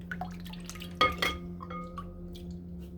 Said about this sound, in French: je vais passer un petit coup dans l'eau pour la rincer